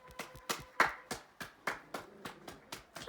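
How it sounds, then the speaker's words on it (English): People at home clap their hands in appreciation of the NHS during the 2020 lockdown, a steady run of about ten sharp, fairly close claps at roughly three per second, with no talking. "Clap, Winnie!"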